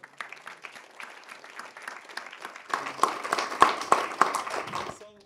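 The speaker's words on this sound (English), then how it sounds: "So let's give a big round of applause." Audience applause at a panel discussion on a whistleblower law, starting as scattered light clapping and swelling into fuller, louder applause before cutting off as a voice begins.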